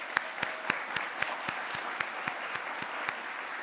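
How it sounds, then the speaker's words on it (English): Audience clapping for finalists at the Broadcom MASTERS 2022 awards ceremony, heard as evenly spaced, rhythmic claps at a moderate level over a soft room wash. "please join me in a round of applause for all of the finalists who are here tonight"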